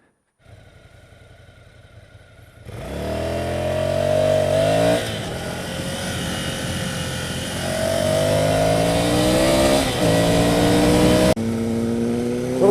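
A Ducati Scrambler Cafe Racer's air-cooled L-twin with Termignoni exhaust: a quiet idle, then loud revving and accelerating through several gear changes, the pitch climbing and dropping with each shift, close and alone.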